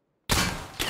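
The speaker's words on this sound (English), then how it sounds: "Who is just shooting at me and how are they shooting at me?" Enemy gunfire in a shooter video game, a sudden loud burst of shots breaking out of silence, with a second sharp report near the end.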